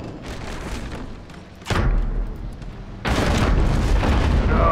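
Heavy ship cannon double shot in the naval game Abandon Ship, landing as a loud broadband boom about halfway through and then a second, sustained blast that carries on over rumbling noise to the end.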